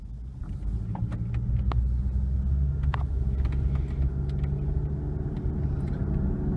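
A 2010 Toyota Venza drives and gently accelerates with a steady low engine and road rumble heard from inside the cabin, along with scattered faint clicks and no talk.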